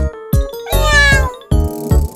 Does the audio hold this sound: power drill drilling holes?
no